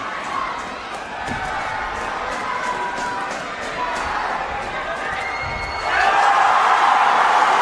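Crowd cheering at the men's regu final of a sepak takraw world cup between Japan and India, a loud arena roar mixed with shouts and sharp ball impacts that swells louder near the end.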